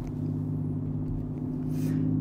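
Supercharged Audi A5 Sportback with a loud straight-piped exhaust gives a steady, heavy low rumble, close and continuous, with a brief higher whoosh near the end.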